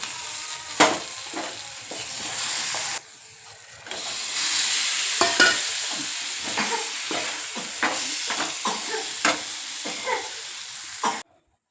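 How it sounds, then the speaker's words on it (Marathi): A ground spice paste fries in a pan, giving a loud sizzling hiss broken by scraping stir strokes, with one short pause in the middle, before the sound cuts out abruptly at the end. "वाटण टाकून घेऊ आधी"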